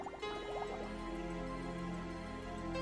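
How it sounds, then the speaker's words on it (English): Water trickles and drips into a test tube in a classroom demonstration, a soft gurgling fill with brief droplets at the start, faint and close, with no talk over it. "fill it with water"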